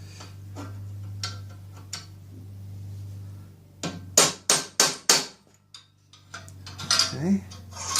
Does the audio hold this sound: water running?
no